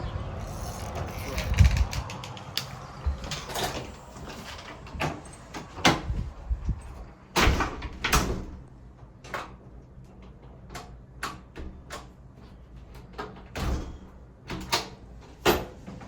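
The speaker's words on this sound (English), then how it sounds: "Make sure I lock the door." A door shut and locked in a hostel common area in Damascus, heard as a series of sharp knocks, clicks and latch sounds scattered over several seconds with quiet room tone between them.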